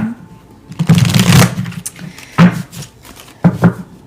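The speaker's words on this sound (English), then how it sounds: "let's pull one more card here" Tarot cards are shuffled and pulled from the deck by hand, giving a long riffling burst followed by two shorter flicking shuffles, close and fairly loud with no talking.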